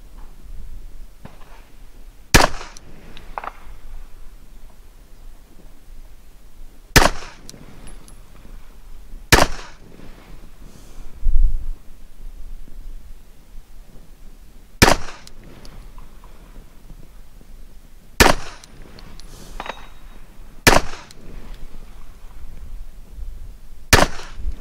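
A Para Ordnance .45 ACP pistol fires about seven sharp, loud shots in an uneven rhythm, with pauses of a few seconds between them and quiet background in the gaps.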